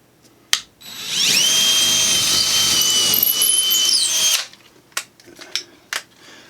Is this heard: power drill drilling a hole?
yes